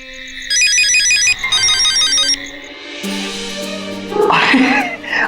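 A bright electronic phone ringtone plays two repeating melodic bursts, then gives way to brief rustling and other noises.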